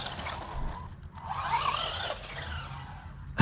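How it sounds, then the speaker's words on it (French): A Funtek STX RC car slides under braking, giving a short scraping tire skid that swells in the middle and fades, close and moderately loud with no voices. "dès que tu freines qu'un tout petit peu et que ça glisse ou que le véhicule est en l'air"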